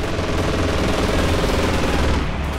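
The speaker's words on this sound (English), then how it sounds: "A quick strafe there from the Luftwaffe that turns the tide." Luftwaffe aircraft strafing run called in as air support in the Company of Heroes 2 war game, a loud, continuous rattle of rapid machine-gun fire pounding without pause throughout.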